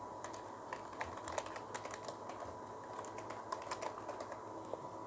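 Rapid clicking of computer keyboard keys as code is typed for a React JS chat application, a steady run of light taps close by with no talking.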